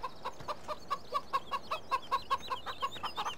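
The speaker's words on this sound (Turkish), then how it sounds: "Şurada bak, tavuk sesi geliyor." Chickens in the farming video game Farming Simulator 17 cluck in a steady series of about fifteen short, evenly spaced clucks, close and clear, with no talk.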